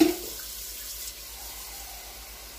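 Water poured into a pan with a cooked roux for carne guisada, a soft steady running splash after an initial hiss, moderately quiet and alone.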